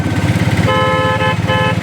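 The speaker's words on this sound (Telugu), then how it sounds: "చూసారా బైక్ వెళ్ళాడు" A motorcycle engine rumbles loudly close by on a forest road at night, with a sustained horn-like tone sounding twice over the engine.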